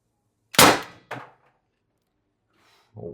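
An HPA air gun at 1100 psi fires an 8.4 gram steel ball bearing: one sharp loud crack, then a quick metallic clang of the impact, then a faint rustle.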